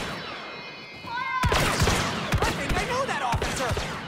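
Blaster fire in the video game Star Wars Battlefront 2, rapid sharp zapping shots in quick irregular bursts after a rising whine, loud and close amid chaotic battle noise.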